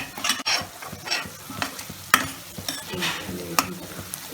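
Onions frying in a pan for an Andhra-style cucumber and raw prawn curry, with a steady sizzle broken by several sharp scraping stirs of a spoon, close and fairly loud.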